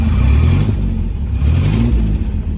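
A 1955 Austin Healey 100/4 BN1 with its four-cylinder engine running up close, loud and rough, revving up and down in uneven surges over a deep throaty rumble, with no voices.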